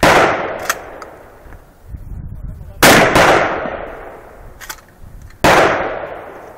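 Three loud gunshots from a semi-automatic firearm at a 3-gun shooting match stage, each a sharp crack followed by a long echoing decay, spaced roughly evenly apart and close by.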